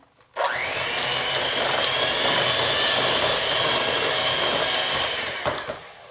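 Finely chopped pecans are mixed into cookie dough as a mixer starts with a sudden whir and holds a steady, loud hum for several seconds before winding down.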